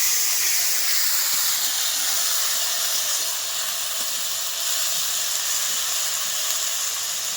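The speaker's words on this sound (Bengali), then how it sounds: "লবণ স্বাদ মতো লবণ মশলাটা কষিয়ে নিলাম" Spice masala with salt being sautéed for a milky fig curry, giving a steady, even sizzling hiss that holds at one level throughout with no talk.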